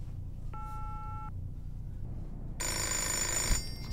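A telephone rings in the video game Fahrenheit: a short electronic ring tone, then a louder, brighter ring burst a second later over low background hum.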